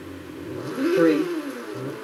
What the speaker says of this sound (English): Racers, start your engines and let's get it on.